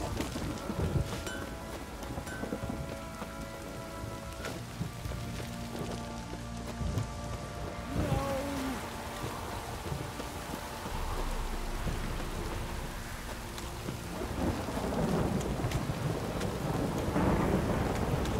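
Rain and rolling thunder in The Witcher 3, a constant wash of rainfall with low rumbles building and swelling through the scene alongside faint game ambience, with no voices.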